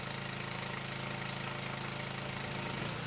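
An Aussie Scud 400 pressure washer engine runs at a steady idle, a constant loud mechanical drone and vibration with no break and no voices.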